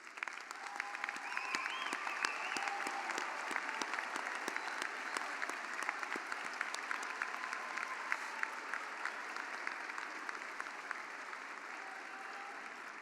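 Sustained applause from a large audience honoring parents at a Lamar University commencement, dense steady clapping that stays even for the whole stretch, no talking over it.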